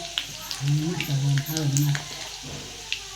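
Mustard seeds, garlic and cumin sizzle in hot oil for a village-style moong dal amti, giving a steady close crackle and hiss with a voice speaking briefly over it.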